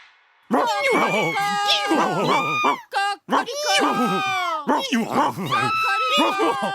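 Four cartoon animals, led by a donkey, shout and bray all at once in a loud, continuous chorus of exaggerated voices imitating animal cries, with short breaks between bursts.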